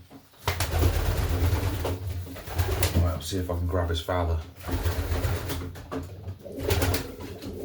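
Racing pigeon stock cocks coo in low, rolling bursts at close range, with someone talking over and between the calls and some handling clatter.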